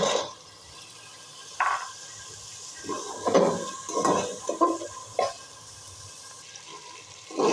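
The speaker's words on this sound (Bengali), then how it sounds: "এবার এতে আমি আগে থেকে সিদ্ধ করে রাখা ছোলা দিয়ে দেব।" Pre-boiled chickpeas drop into a spice paste frying in a pan, giving a few bursts of sizzle and stirring scrapes over a low hiss, close and without talk.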